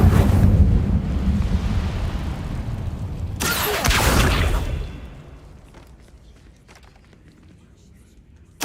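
An Incendio fire spell cast in the video game Hogwarts Legacy, a loud roaring whoosh of flame that bursts out over windy rumbling ambience, then fades to a quiet hush.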